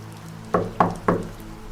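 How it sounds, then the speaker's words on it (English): Three evenly spaced knocks on a door, close and fairly sharp, set against a quiet low hum in an otherwise still room. "That's when I heard a knock."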